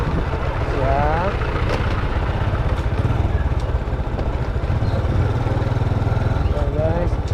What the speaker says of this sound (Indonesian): naik motor siang hari di Jalan Labu, Kota Pematang Siantar